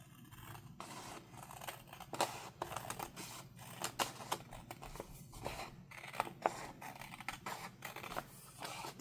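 Scissors snip paper while a zine is trimmed, a run of quiet, close, crisp cuts in an irregular rhythm with soft rustling between them.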